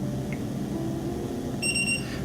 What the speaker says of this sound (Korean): 삐 소리가 3번 들린 게 들리실 겁니다